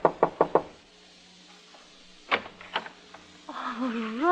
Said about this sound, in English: I knocked at the door.